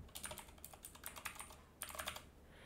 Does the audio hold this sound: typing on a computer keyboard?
yes